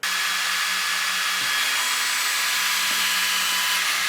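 A Creality Falcon 2 40-watt laser cuts a straight line through 1/8 inch basswood, giving a steady hiss of fan and air assist with faint clicks and hums of the gantry moving underneath.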